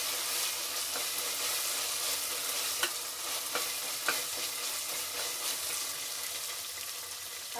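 Ginger garlic paste frying in a pan, a continuous close crackling sizzle with occasional scraping taps of a spoon as it is stirred.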